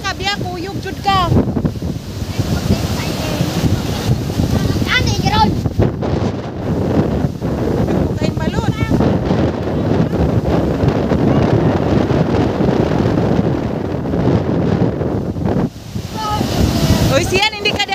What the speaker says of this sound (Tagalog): malapot na diha ka dagko kay nga balod oh